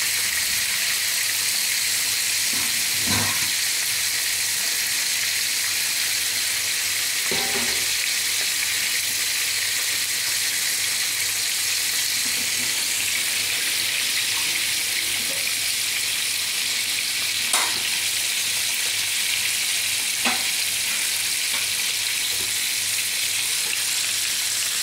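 Marinated chicken frying in oil gives a continuous loud hiss and crackle, close and unbroken, with a few faint knocks and clinks of utensils scattered through.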